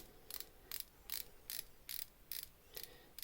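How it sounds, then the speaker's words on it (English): The 120-click bezel of an Orient Kamasu dive watch turns in short bursts, giving about eight evenly spaced, crisp clicking ratchet sounds, close and fairly quiet. "let's check out the bezel action on this"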